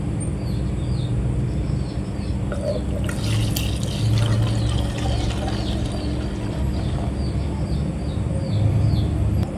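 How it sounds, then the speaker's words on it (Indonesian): Detergent solution poured from a measuring glass into a bottle during a school science experiment, a steady liquid pour and trickle running throughout against faint background noise, with no talking. "sebanyak 500 ml kita berikan atau kita tuangkan ke dalam botol bertuliskan"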